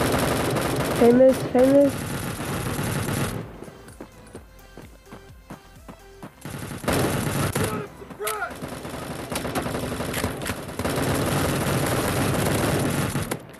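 In the online shooter Bullet Force, rapid bursts of automatic gunfire rattle in dense stretches broken by a quieter gap of sparse, spaced shots, while a voice briefly speaks over the shooting.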